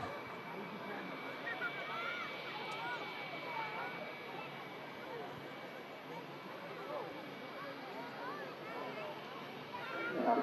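A Turkish airliner begins its takeoff roll at an airport, its engines a steady broad roar that holds evenly and swells slightly at the end, with a voice faintly present beneath.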